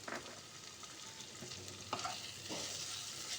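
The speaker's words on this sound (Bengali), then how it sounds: "আবারও এটাকে আমি খুব ভালো করে নেড়ে চেড়ে এর সঙ্গে মিশিয়ে নেব" Soft sizzling of potato and chopped tomato frying in a pan as they are stirred, faint and steady with occasional scraping pushes of the spatula.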